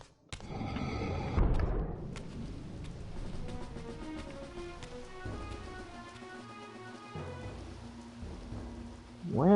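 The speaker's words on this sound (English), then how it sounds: "I hear a storm." A storm in the video game Soul Reaver 2 brings a sharp thunder crack followed by steady rainfall and low rumbling thunder, with a faint electronic tone near the end.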